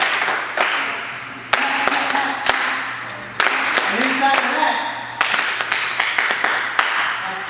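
Sharp hand claps and taps keep an irregular beat in a hip hop workshop. The crisp hits land every second or so, mixed with someone talking over a low hum.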